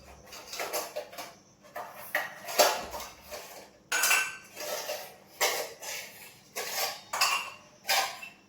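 Ceramic plate, cup and bowl clink and knock together in a kitchen during tea preparation, a series of sharp close clatters in bursts about once a second, with no talking.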